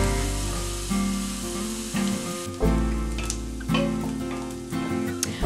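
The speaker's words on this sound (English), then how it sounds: "continue to let our onions brown up, and now our garlic get in there" Onions and minced garlic fry in a pan for homemade lasagna, a soft, steady sizzle with occasional spits, partly buried beneath louder background music.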